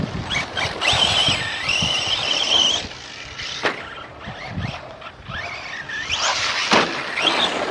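An Arrma Senton 3S V3 RC truck drives on outdoor terrain, its electric motor whining and rising and falling in pitch through two bursts, with tire scuffs and bumps in between and no talking.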